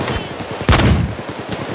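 Gunfire in the video game Payday 2, a rapid string of sharp shots with one heavier blast in the middle, loud and close over steady in-game background noise.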